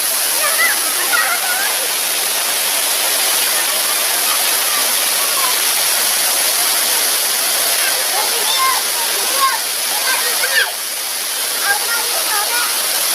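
Water flowing steadily down a stream or drain channel, a loud continuous rushing wash that fills the whole clip without pause, with faint background sounds now and then.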